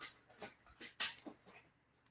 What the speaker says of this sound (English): You can hear my puppy chewing paper underneath my desk.